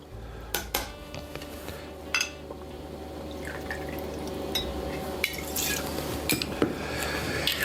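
Vanilla vodka, about one and a half ounces, poured into a jigger for an eggnog cocktail, with a faint trickle of liquid and light clinks of glassware and bar tools in a quiet kitchen.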